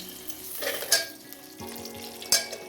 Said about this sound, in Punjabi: ਹੁਣ ਆਪਾਂ ਕਰ ਲੈਨੇ ਗੈਸ ਔਨ ਇੱਥੇ ਰੱਖਤਾ ਆਪਾਂ ਪਤੀਲਾ ਇਹ ਚ ਪਾ ਦਿੰਨੇ ਆਪਾਂ ਦੇਸੀ ਘਿਓ